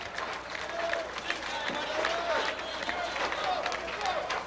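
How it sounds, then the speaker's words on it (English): Spirited home crowd at a candlepin bowling match clapping and cheering, a steady wash of applause and crowd noise with a few whistles, moderately loud and continuous throughout. "Very spirited crowd here today."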